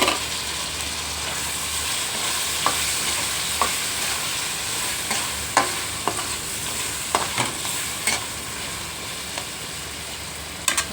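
Tomatoes frying with onions in a pan for gongura chicken, a continuous hiss of sizzling with scattered sharp scrapes and clinks of stirring at an even pace.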